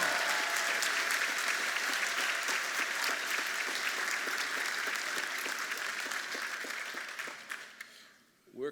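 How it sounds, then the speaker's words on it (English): Steady audience applause at an architecture and design school commencement, a dense even wash of many hands clapping that holds for several seconds, then fades and stops near the end. "Please give them a round of applause wherever they"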